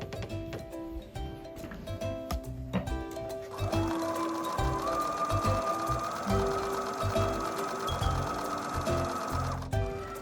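A sewing machine stitches fabric with a 1/4 inch seam while a zipper pouch bag is being sewn, a steady mechanical whir running close by for several seconds with light clicks and rattles.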